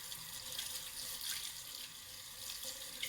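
Running tap water splashes steadily into a sink as lavender soap lather is rinsed from hands, a continuous close hiss with no talking.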